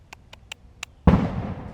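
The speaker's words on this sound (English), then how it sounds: "we still got fireworks going on" Fireworks go off outside: four sharp, evenly spaced pops crackle first, then a heavy boom bursts and rumbles away into a long fading tail.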